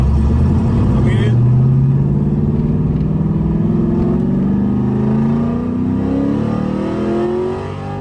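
LS-swapped car with a three-mode exhaust and Varex valve set to its loud mode, a deep rumbling engine note rising steadily in pitch as it accelerates, loud and close throughout.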